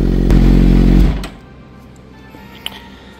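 Suzuki GSX-R600 motorcycle engine idling loudly up close, then cut off, its steady rumble dropping away within a second to quiet workshop ambience with a small click.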